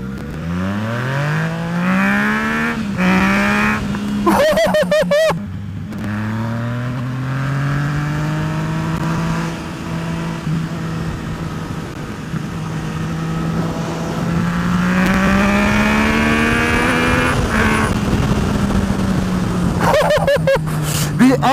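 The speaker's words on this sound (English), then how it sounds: "The acceleration on this bike is absolutely ridiculous." A Yamaha FZ09 motorcycle accelerates hard, its engine note climbing through several gear shifts with brief drops between them, loud and close throughout with wind rush and no talking.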